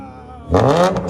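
Acura TL Type S with a 3.5L V6 and aftermarket exhaust revs hard after a quiet idle, a loud rising burst of engine roar close by.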